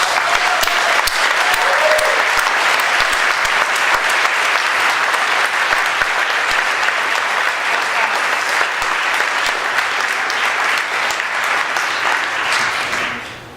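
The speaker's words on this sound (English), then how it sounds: "I'm going to pause what I'm saying right now so we can all applaud the caretakers." An audience at a panel event on capitalism and climate breaks into loud, sustained clapping that holds strong throughout before tapering off at the very end.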